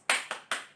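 Three quick, crisp hand claps in a children's clapping game at a church Sunday school service, close and fairly soft, each snapping sharply before a short ringing decay.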